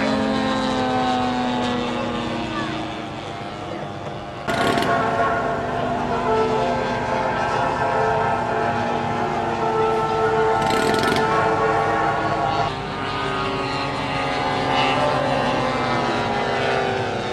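Propeller engines of radio-controlled model warplanes, including a Spitfire and a Mustang, drone steadily overhead at an airshow, the pitch sliding up and down as they fly past and manoeuvre, loud and continuous.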